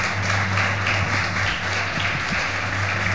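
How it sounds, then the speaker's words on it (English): An audience at a Chennai temple celebration claps steadily for a dance drama, a dense, even wash of applause holding throughout with a low steady hum beneath. "Big round of applause for this wonderful dance drama"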